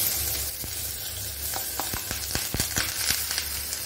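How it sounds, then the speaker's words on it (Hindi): Onions hit hot oil with cumin seeds in a pan, giving a steady close sizzle broken by sharp crackles and a few stirring clicks throughout. "तड़क गए, अब प्याज डालेंगे।"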